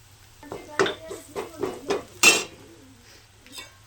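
Metal spoon mixing chilli, garlic and tamarind in a pan: a quick series of about six scraping clinks against the metal, close and fairly loud, with one sharper knock near the end, then quiet.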